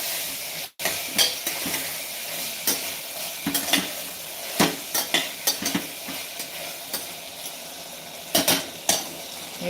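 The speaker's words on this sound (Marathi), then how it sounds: "थोडीशी हळद टाकायची मिक्स करून घ्यायचं बघा मिक्स करून घ्यायचं व्यवस्थित" Turmeric being stirred into a vegetable curry in a pan, with a spoon scraping and clinking against the metal in irregular strokes over a soft sizzle of frying, close and clear, no talking.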